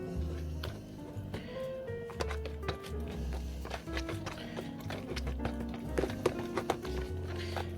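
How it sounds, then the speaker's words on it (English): Mash is pounded by hand, giving close, irregular taps and soft thuds in an uneven rhythm over a low, steady hum. "I'm going to start mashing it up now."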